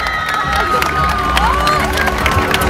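A crowd at a beauty contest during a pide festival cheers and shouts with scattered clapping, a lively, continuous din with high voices rising above it.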